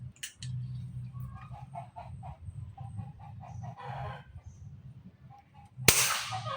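Chickens clucking nearby in an outdoor setting during a compact PCP air rifle accuracy test, with repeated soft clucks and calls, then a sharp loud air rifle shot near the end.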